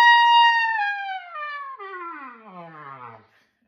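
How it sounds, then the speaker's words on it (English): Trumpet playing a slow fall, a single sustained bright tone that bends steadily downward in pitch over about three seconds before fading out, played alone and close. "Slowing them down a lot is going to be a sound like this."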